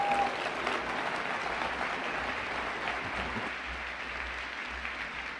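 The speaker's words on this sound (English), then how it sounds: "Let's give a big, big round of applause to Elon Musk." Audience applause welcoming Elon Musk at a 2017 talk, a dense, steady wash of many hands clapping that fills the whole stretch at an even level with no voices on top.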